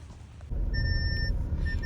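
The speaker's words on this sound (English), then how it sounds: "the car is beeping its head off at me" A car's electronic beeper sounds in short repeated tones over a steady engine rumble, close by.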